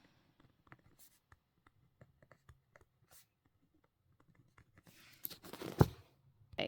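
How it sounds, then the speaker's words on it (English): Pen on paper while writing in a homeschool planner: soft, close scratches and taps in short strokes, quiet overall, with a louder burst of scribbling near the end. "So I'm just going to write week 33"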